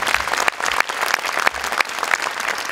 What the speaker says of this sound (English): With warm applause.